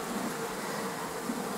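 A honeybee swarm hums in a dense, continuous buzz, steady and fairly close, with no other sounds.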